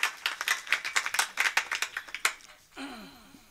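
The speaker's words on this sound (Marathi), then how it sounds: "टाळ्या वाजवा, मन लावून वाजवा" An audience at a Marathi kirtan claps in scattered, uneven bursts that thin out after a couple of seconds, with a faint tonal sound entering near the end.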